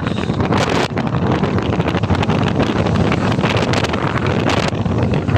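Strong typhoon wind roars across Manila Bay in a constant, loud buffeting rush that batters the microphone, with no letup through the whole stretch.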